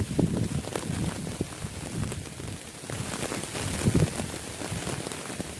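Heavy rain pours steadily over a snake bean garden during harvest, a dense continuous hiss with scattered drops spattering nearby surfaces and no voices.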